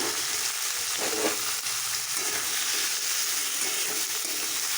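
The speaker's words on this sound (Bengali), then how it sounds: "তো এগুলো সব আমি ভালো করে ভেজে নেব" Mixed vegetables frying in oil for spicy semolina: a constant, busy sizzle close by, with occasional stirring scrapes over the unbroken hiss.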